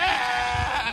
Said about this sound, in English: No, the goat say blah.